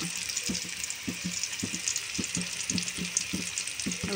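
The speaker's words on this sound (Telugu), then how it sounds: "బాగా ఫ్రై అయ్యింది కదా" Food sizzling steadily in a hot pan, broken by regular scraping strokes of a utensil stirring about every half second.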